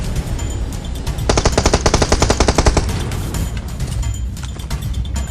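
Automatic gunfire in the mobile battle-royale game PUBG Mobile, a loud rapid burst of about twenty evenly spaced shots lasting around a second and a half, followed by scattered fainter game sounds.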